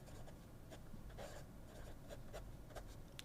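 A Scribo La Dotta flex nib fountain pen scratches faintly across paper in short, separate strokes, quiet and close, with no one talking.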